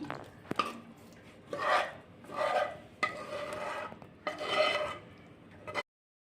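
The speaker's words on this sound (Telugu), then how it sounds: "చట్నీని పాత్రలో తీసుకుందాం." Several bursts of citron chutney being scraped against a metal or ceramic vessel, rasping strokes repeating close by with short pauses between.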